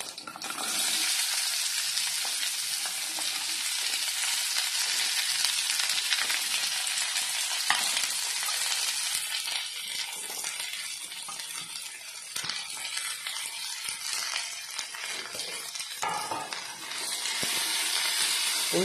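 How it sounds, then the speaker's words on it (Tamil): Chopped small onions fry in hot coconut oil, a steady, close, loud sizzle and crackle lasting throughout, with occasional stirring clatter and no talking. "இப்போ நறுக்கி வச்சுருக்க உள்ளி எடுத்து போட்டுக்கிடுவோம்"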